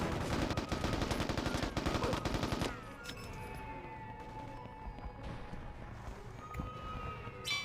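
Rapid video game gunfire from an original Xbox shooter played on Xbox One, a loud burst of dense automatic shots for a few seconds that then cuts to quieter, sparse in-game sounds and faint tones.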